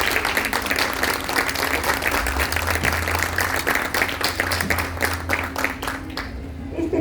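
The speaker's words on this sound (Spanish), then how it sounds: "Les pido un aplauso para ellos." An audience at a book presentation claps steadily for about seven seconds, a dense, close wash of applause that thins slightly toward the end.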